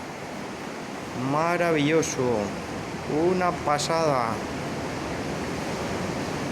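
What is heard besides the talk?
sea roaring, heard from inside a cave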